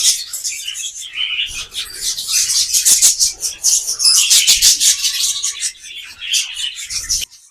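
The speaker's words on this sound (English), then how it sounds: "Now I'll leave you to enjoy the natural bird sounds." Parrots in an aviary chirp, squawk and whistle continuously, many overlapping high calls close and loud, with a few shuffling sounds underneath.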